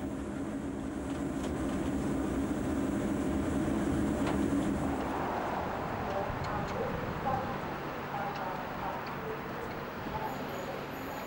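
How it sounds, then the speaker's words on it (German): Steady rumbling roar of an Intercity train at nearly 200 km/h running over rails, a continuous rushing noise with faint rhythmic clicks throughout. "Mit fast 200 Sachen rauschen wir jetzt über die Gleise"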